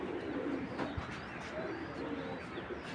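A racing pigeon coos softly in a loft among other birds, low repeated cooing over a faint background with the odd chirp.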